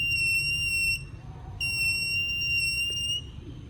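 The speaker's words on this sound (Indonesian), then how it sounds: "Jadi ketika cahaya didekatkan, maka buzzer akan berbunyi." An electronic buzzer in a light-activated circuit sounds a steady, piercing high-pitched tone in two long bursts separated by a short gap, over a low background hum.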